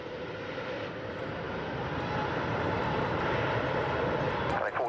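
An airplane takes off from a runway with a loud, steady engine roar that swells slightly and holds throughout, with no voices over it.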